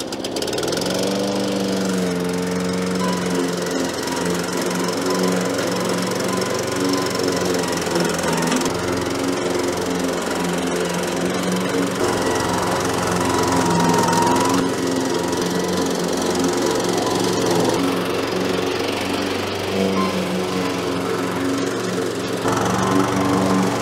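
A Weibang mulching lawn mower runs close by with a continuous, loud engine drone and a steady low hum that holds level throughout.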